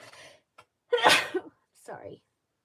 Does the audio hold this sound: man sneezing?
yes